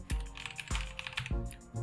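Keys on a computer keyboard are struck at close range, including the Enter key, giving three or four distinct, firm clacks spaced about half a second apart, with softer key rattle between them.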